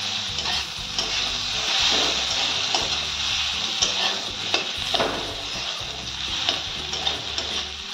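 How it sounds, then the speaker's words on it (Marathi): Boiled, chopped potato tossed into a pan for a fasting samosa filling, stirred steadily with a continuous frying sizzle and scraping of the spoon, close and fairly loud throughout. "आता टाकूया उकडून कापून घेतलेला बटाटा, मिक्स करून घेऊया"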